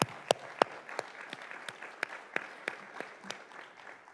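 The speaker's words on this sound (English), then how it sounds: "Let's give them a round of applause" Scattered audience clapping at the close of a panel discussion, with a few sharp, separate claps standing out over a thin, steady patter that stays fairly quiet throughout.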